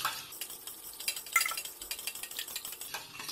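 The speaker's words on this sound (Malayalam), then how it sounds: "നമുക്കിതിലോട്ട് 1 സ്പൂൺ കട്ട തൈര് ഒഴിച്ചു കൊടുക്കാം. നന്നായിട്ട് മിക്സ് ചെയ്യാം." A spoon stirs curd into warm milk in a vessel, soft quick scraping and light clinks in an uneven rhythm, close and quiet with no talk.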